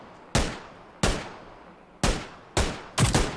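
Five loud, sharp gunshots ring out in PUBG, spaced irregularly with short echoing tails, the last two close together.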